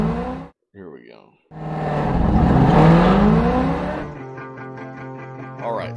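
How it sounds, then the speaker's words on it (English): A car launches at 2,500 RPM on an autocross course, the engine swelling into a loud rising drone that peaks and then settles into a steady hum, after a brief burst of talk at the start. "here I am launching the car"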